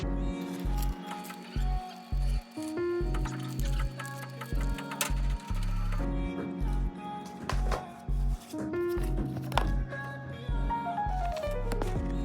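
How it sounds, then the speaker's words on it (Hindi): Scissors snip through paper printouts for a vision board, making a series of close, crisp cuts with an irregular rhythm over a quiet background. "अभी भी बहुत सारे प्रिंट आउट पड़े हैं, चलो इनको कट करते हैं।"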